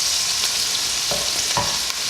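A spoon scrapes and stirs through tomato chicken stew frying in a pan, with a constant sizzle underneath and a couple of distinct stirring strokes, close and clear with no talking.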